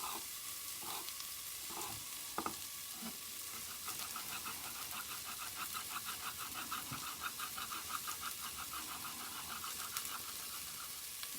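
Onions fry and brown in a pot for spaghetti bolognese, a continuous quiet sizzle with soft scraping stirs and a few clicks early on, close but low in level.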